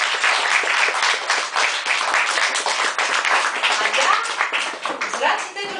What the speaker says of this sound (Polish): Witamy go serdecznie, dużo brawa!